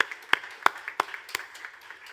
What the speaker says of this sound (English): So a round of applause, please, to PwC for their sponsorship